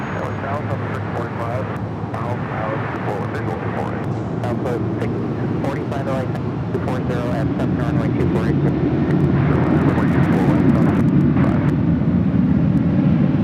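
Airliner taking off from runway 24 left at LAX at night, heard as a steady, loud jet roar that swells toward the end, with talk and radio chatter running over it.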